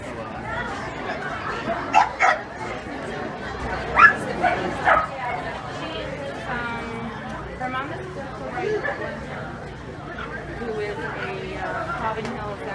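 Dogs barking and yipping at a dog show, several short bursts up close early on, then a busy hall of chatter and scattered whimpers, with people talking throughout.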